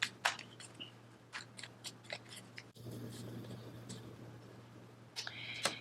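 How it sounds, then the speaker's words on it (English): Tarot cards shuffle in sharp, irregular riffling clicks and snaps, close and fairly quiet, broken by a softer sliding stretch in the middle before a final flurry of card noises. "I'm going to shuffle some more."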